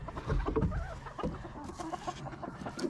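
Chickens cluck softly on a dairy farm, low and somewhat distant, mixed with faint rustling and handling noises in the coop.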